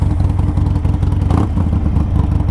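A Harley-Davidson motorcycle idles close by, a loud, steady, low-pitched rumble with a rapid uneven throb and mechanical clatter, heard on its own.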